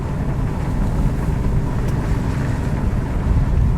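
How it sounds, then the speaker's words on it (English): A steady, loud rumbling roar of studded tires rolling over hard ice in freezing rain, continuous with a gritty texture and no voices. "you can hear the sound of the studs in the ice"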